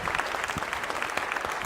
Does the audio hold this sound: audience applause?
yes